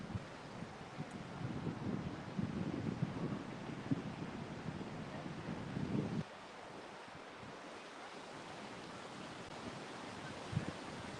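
Gusty wind buffeting the microphone over a steady rush of surf at Pacific Beach, loud at first then easing to a softer roar after a few seconds.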